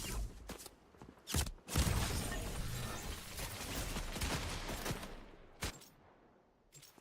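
Bursts of rapid gunfire in the battle royale game Fortnite, loud and close, with dense volleys packed through the middle and a few sharp isolated shots at the start and end, no talk over them.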